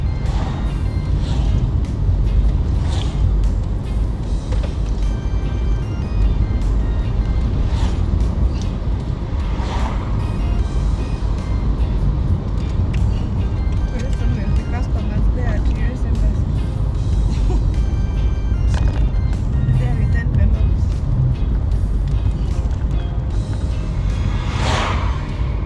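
A car drives along UN Road in Gigiri, Kenya, with steady, close road and engine rumble throughout and occasional whooshes of passing traffic.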